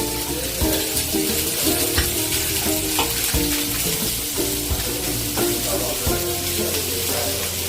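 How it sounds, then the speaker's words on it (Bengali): Two chopped onions and about eight pieces of chopped garlic sizzle loudly in hot oil in a pan. The frying is dense and continuous, with frequent stirring scrapes close by and a faint voice in the background. "গরম তেলের মধ্যে আমি কুচো করে রাখা 2টো পেঁয়াজ দিয়ে দিলাম আর দিচ্ছি 8 পিস মতো রসুন"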